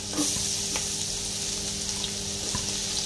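Ginger and then garlic sauté in hot oil in a pot for pininyahang manok, giving a steady close sizzle with a few light stirring scrapes and no talking.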